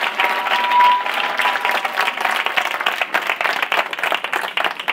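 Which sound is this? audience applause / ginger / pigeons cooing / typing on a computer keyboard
audience applause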